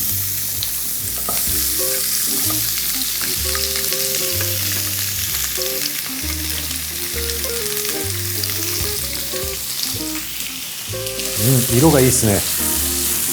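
Vegetables stir-fried in a hot frying pan with salad oil for an ethnic-style prawn and colourful vegetable basil stir-fry, a steady loud sizzle with clattering stirring throughout and a brief spoken comment near the end.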